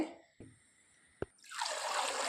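Water trickles and gurgles as a plastic bottle, punctured with a large hole, is pushed down into water to fill; a brief drip and a sharp tap come first, then a steady bubbling rush builds and holds close by.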